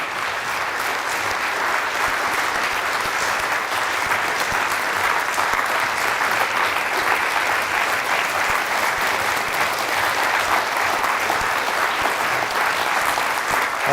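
Steady, dense audience applause fills a hall at a public lecture, sustained evenly and loudly throughout with no break.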